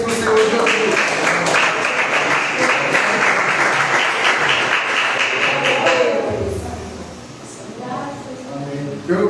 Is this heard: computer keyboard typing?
no